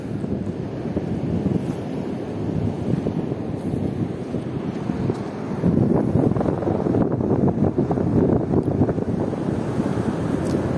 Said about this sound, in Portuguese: as ondas do mar tá quebrando muito aqui